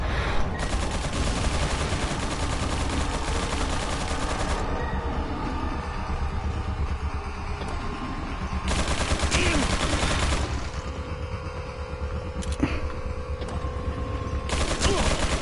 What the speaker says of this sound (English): now he's got a bloody machine gun